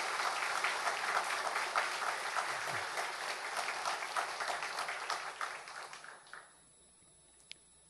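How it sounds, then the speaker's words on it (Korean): A church congregation claps together in sustained applause for the worship and video teams, a dense even wash of hands that carries on for several seconds before fading out into quiet room tone. "찬양팀과 영상팀 수고하셨으니까 우리 박수로 한번 격려해 주실까요?"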